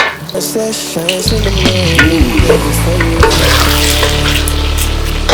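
Stock is poured into a pot of sizzling jollof rice stew, a loud continuous frying hiss and bubbling with liquid splashing in partway through, close up and with no talking.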